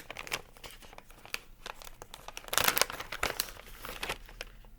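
Packaging for Color Street lip products being opened up close, with crinkling and crumpling plastic in bursts and a louder tearing rustle midway.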